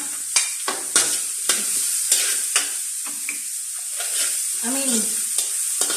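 Garlic and onions sizzle in a frying pan for chicken adobo, a steady hiss broken by several sharp scrape-and-stir bursts at a fairly close range, with no talking.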